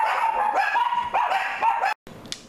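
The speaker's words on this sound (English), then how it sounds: "sorry, my dogs had a fit." Several dogs bark and yip in excited overlapping bursts, loud and close indoors, then break off abruptly with one last faint yelp.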